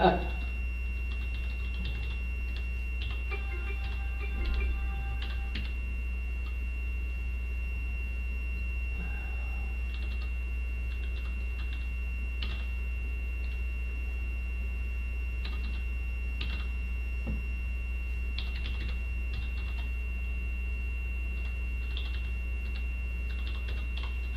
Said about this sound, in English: You type pretty good.